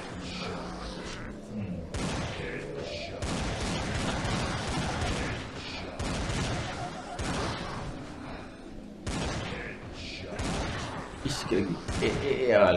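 Gunfire from the zombie shooter video game Dead Target comes in repeated loud bursts of shots and booms over about thirteen seconds, separated by short gaps, with a voice speaking at times.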